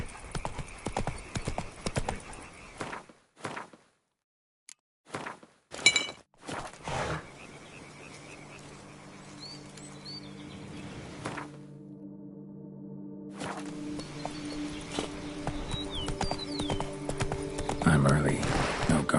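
A horse's hooves clop in a video game (The Witcher 3), intermittent early then a steadier run later, with game music and ambient sounds around them.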